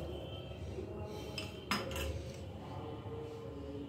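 A spoon stirs a cornflour slurry into a pot of chicken vegetable soup, giving quiet, sparse metallic clinks and scrapes against the pot over a faint background hum.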